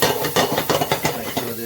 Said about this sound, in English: make sure that the onion is stirred real good